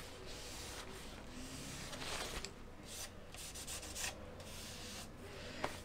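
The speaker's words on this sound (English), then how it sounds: "I'm going to use some Trizac and just really lightly give that a rub over." A Trizact abrasive pad is rubbed lightly over a painted 1/48 Tornado GR1 scale model, giving a soft, continuous scratchy rubbing with irregular strokes, close and fairly quiet with no talking.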